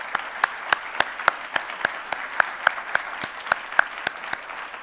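Audience at a Red Cross disaster preparedness summit applauding the event's planning committee, with sharp, distinct claps from a modest crowd at a moderate distance, steady for a few seconds.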